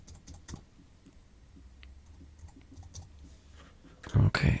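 Right and left arrow keys on a computer keyboard being pressed while editing MIDI in Ableton Live: faint, scattered soft clicks sound near the microphone, followed by a couple of louder knocks at the end.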